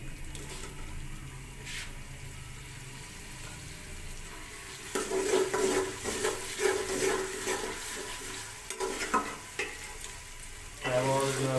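Tomatoes added to a pan of onions and ginger-garlic paste sizzle and fry, a soft steady hiss that grows louder partway through, with occasional stirring scrapes and no speech.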